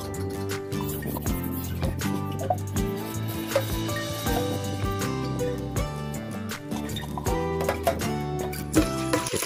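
Water runs steadily while a scrubbed burnt pot is rinsed, with continuous splashing and trickling close by. Clattering knocks of the pot against the sink come through over the flow.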